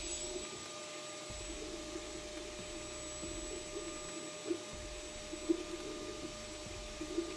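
A FLSun S1 3D printer printing a Benchy at high speed whirs loudly and steadily, with a constant motor drone, a high whine and occasional soft clicks, close by with no talking.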